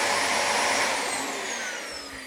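A Dyson DC25 vacuum cleaner motor runs at full power, a loud close roar with a high whine that slowly fades slightly over the short stretch, no voices present.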